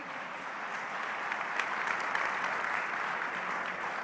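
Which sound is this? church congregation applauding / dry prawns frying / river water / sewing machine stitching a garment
church congregation applauding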